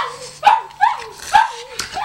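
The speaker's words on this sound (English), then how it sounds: "I'm gonna take Neon Dog for a run" Dog barking close by in a quick series of about four sharp yips and barks, with some whining tone between them, loud and near.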